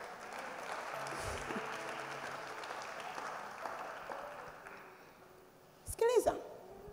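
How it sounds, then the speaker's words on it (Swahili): A church congregation claps for the Lord beneath a preacher's ongoing voice, the applause spread thin and distant, with a brief louder burst near the end. "mpigie Bwana makofi."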